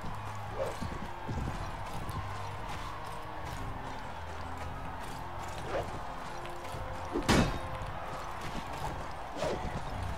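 Horse hooves in Mount&Blade: Warband, irregular clip-clop thuds from a medieval battle with a few louder hits among them, heard over a low game background.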